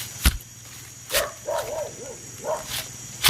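A dog barks several times in short yelping bursts, some whimpering or yipping in between, a few sharp knocks or thumps standing out, moderately close with no clear speech.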